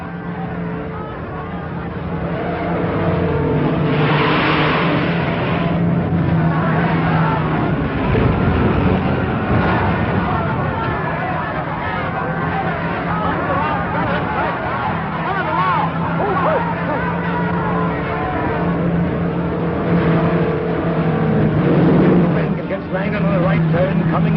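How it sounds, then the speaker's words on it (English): Vintage race cars roaring around a track in a close finish, a continuous loud engine drone and crowd hubbub beneath a commentator talking over it throughout. "the cars will be neck and neck for the finish with only 2 laps to go"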